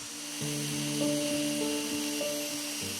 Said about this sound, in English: I start the sanding rotating the blank at slow speed and using a 120 grit sandpaper